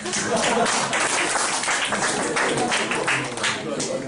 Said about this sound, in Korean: 박수 한번 주겠다.